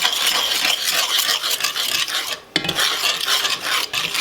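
Spoon stirring bacon grease into homemade gravy in a pan over low heat, loud close scraping and swishing strokes against the pan with a faint sizzle underneath, briefly pausing midway, no voices.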